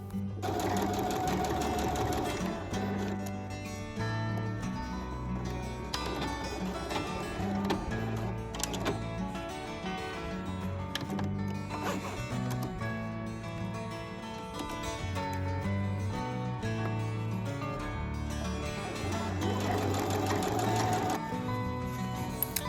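A sewing machine stitches the lining and outer fabric of a tote bag together, its steady motor whir running loud and close throughout with brief slowdowns and restarts along the seam.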